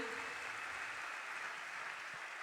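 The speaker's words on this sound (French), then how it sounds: "je pense qu'on peut déjà applaudir pour cette vidéo" Sustained applause from an audience at a formal prize-giving ceremony, a dense steady patter of clapping that carries at an even level through the whole stretch with no voices over it.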